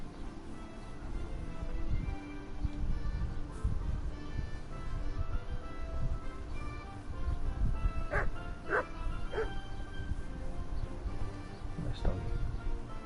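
A dog barks in the video game Kingdom Come: Deliverance, several short barks in a quick cluster midway and another near the end, fairly faint over a busy background of ambient game sound.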